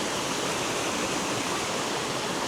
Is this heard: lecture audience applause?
no